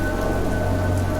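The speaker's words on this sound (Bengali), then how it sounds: "সেই অন্ধকার রাত, সেই ঝড় বৃষ্টির হুলস্থুল" A storm on a dark night in a horror audio drama comes through as dense, steady rain with a low rumbling undertone, loud and continuous for a brief moment, with no voices.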